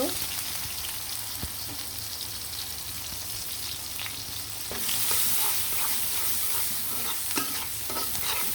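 Chopped onions hit a hot pan with fried chicken and sizzle loudly, the hiss swelling as they go in, with scraping stirs and small pops up close.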